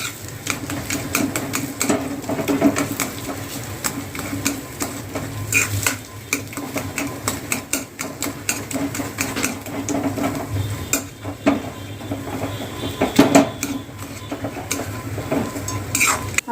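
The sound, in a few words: mashing bread patice vegetable filling in a pan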